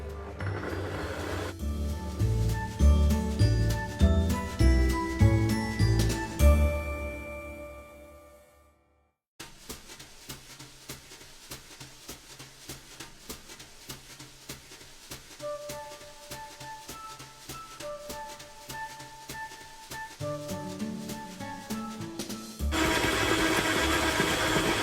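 Electric mixer slowly beating nastar cookie dough after 300 grams of powdered milk is added, a steady motor whir running throughout with a brief stop midway, then resuming at an even pace.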